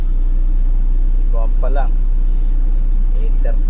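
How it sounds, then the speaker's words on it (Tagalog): Road traffic in a rush-hour jam near an expressway exit is a constant loud low rumble of engines, with brief voices talking over it. "Grabe traffic. Basta ganitong oras, traffic."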